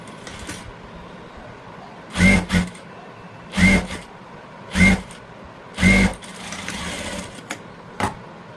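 A sewing machine stitches a belt onto a blouse, running in four short, loud bursts of whirring separated by brief pauses, with light background hiss.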